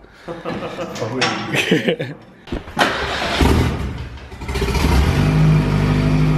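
A car engine revs up loudly on a dyno and holds a steady roar, running less lean than before, with bursts of laughter and chatter nearby.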